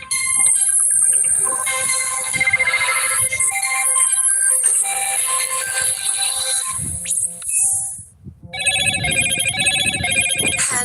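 A Motorola phone rings with its Hello Moto ringtone, bright repeating electronic tones that play loudly and close, pause briefly, then start again, with no talking over them.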